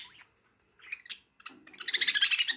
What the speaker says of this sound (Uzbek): Bozorda ham har xil qushlar bor.